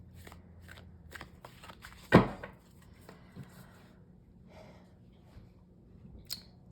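Tarot cards are shuffled by hand in a quiet room: soft riffling and slapping bursts with one sharp snap near the middle, followed by lighter card handling.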